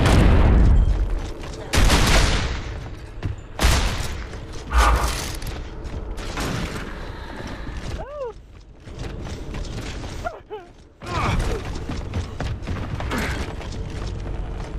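A frag grenade blast in Gears of War: Judgment, with loud booming bursts and mechanical clatter of gunfire in repeated heavy hits, and brief gaps between them.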